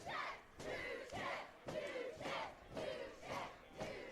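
Duchesne high school hockey fans cheer loudly in the stands of an indoor ice center, a dense crowd roar rising and falling in repeated surges with rhythmic chanting swells.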